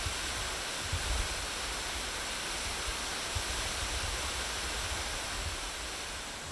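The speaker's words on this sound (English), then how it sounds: "Just a hidden waterfall" Hidden waterfall in the forest near Revelstoke, BC, roaring as a steady, dense wash of falling water that fills the scene from start to finish, with no voices.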